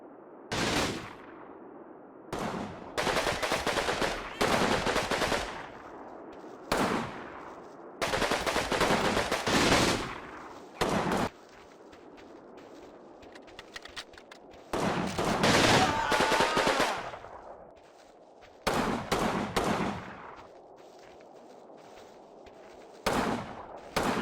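Machine gun covering fire in the video game Combat Mission Battle for Normandy, with repeated loud bursts of automatic gunfire separated by short pauses.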